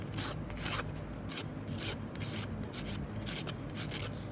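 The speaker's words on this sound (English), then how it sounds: "once you got it shaved, this is when you take your sandpaper and" Graphite drawing pencil lead being sharpened against sandpaper while the pencil is twisted: steady, rhythmic rasping strokes, close and fairly quiet, with no talking.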